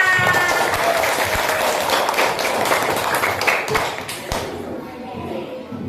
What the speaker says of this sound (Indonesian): Tepuk tangan untuk Sophia.